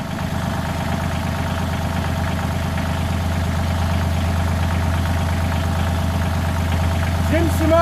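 A tractor engine idles with a steady low rumble that holds throughout, close and fairly loud, with faint voices in the background.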